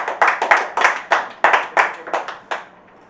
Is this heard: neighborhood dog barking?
no